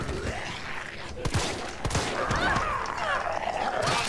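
Gunshots ring out in Resident Evil 3, several sharp cracks spaced irregularly over tense game ambience, with brief creature or dog-like yelps mixed in.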